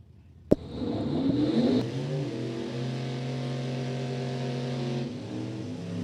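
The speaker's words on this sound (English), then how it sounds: "The Grumpy's Toy Monza tribute car here on the tower side" Grumpy's Toy Monza tribute funny car at Mo-Kan Dragway, starting with a sharp bang, then a loud engine rev that settles into a steady droning idle for several seconds before tapering slightly near the end.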